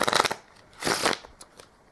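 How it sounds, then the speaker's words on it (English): Playing cards are shuffled up close in two quick riffling bursts, each a dense crisp flutter under a second long, with a few light taps after them and no talk. "I'm just going to mix these cards up here"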